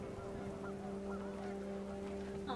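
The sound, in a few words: panicked geese honking in video game What Remains of Edith Finch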